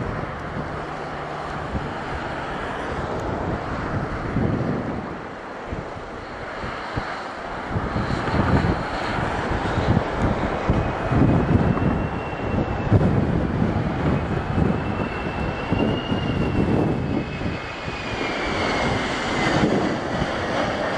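Strong gusty wind buffets the microphone at Madeira Airport during aircraft landings on runway 23, a broad roaring rush with surging swells and a faint distant aircraft whine rising and falling, continuous throughout.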